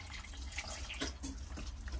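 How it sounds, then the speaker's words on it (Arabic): Water poured into a container for soaking, a steady close splashing trickle that runs for the whole two seconds with no talking. "غادي ندير هنا الماء"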